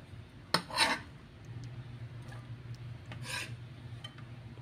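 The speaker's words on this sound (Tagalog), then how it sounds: "Yung bawang, palpalin lang po natin mga kalakay para mas lalong magkalasa po yung adobo natin." Garlic cloves being crushed for chicken adobo, giving two short scraping, rasping bursts close by with a quieter third scrape later, no talking.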